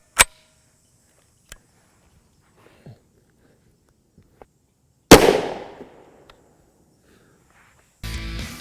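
A 9mm pistol fires Federal Hydra-Shok Deep 135-grain hollow-point rounds into a gel block outdoors: a few sharp cracks, one much louder report with a decaying tail, then a burst of noise at the end.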